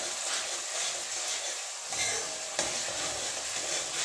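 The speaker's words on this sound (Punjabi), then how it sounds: "ਪਿਆਜ਼ਾਂ ਨੂੰ ਆਪਾਂ ਬਰਾਊਨ ਥੋੜਾ ਜਿਹਾ ਬਰਾਊਨ ਕਰਾਂਗੇ" Onions frying and browning in a pan for dhaba-style cauliflower, a dense continuous sizzle with a couple of brief stirring scrapes, close and steady with no one talking.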